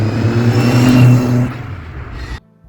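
A modified 1994 Rover Mini revs with a high, steady straight-cut gearbox whine layered over a low engine drone, then drops off sharply near the end.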